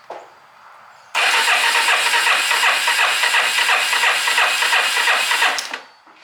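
Vintage Yamaha Moto4 ATV engine cranking over steadily for about four and a half seconds during a compression test, a loud, even rhythmic churning that stops abruptly, with no voices.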